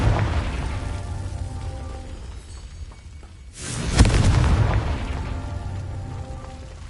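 Confringo blasting spell in the video game Hogwarts Legacy, a single swelling boom with a rumbling tail over ongoing game noise.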